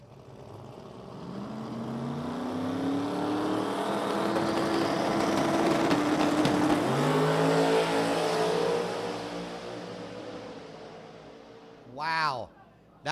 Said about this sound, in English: Larry in this beautiful Corvette. Kruk in this beautiful Mustang.